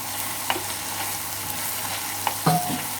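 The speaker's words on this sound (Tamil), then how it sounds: "எல்லாத்தையும் நல்லா ஒன்றா கிண்டி விட்டுருங்க." Masala with coriander powder sizzles in a hot pan while a spoon stirs it, a soft steady frying hiss broken by a few scraping strokes, with no speech.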